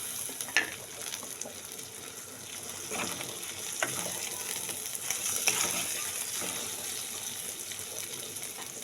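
Tomatoes hit a hot frying pan and sizzle, a soft, continuous hiss with light crackles and an occasional clink of a spoon against the pan, heard alone at a moderate distance.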